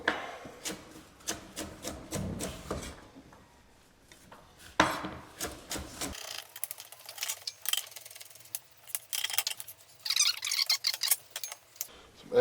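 A carrot chopped on a wooden board, a run of sharp, close knife taps in quick irregular bursts, then a quieter stretch of scattered knocks and rubbing.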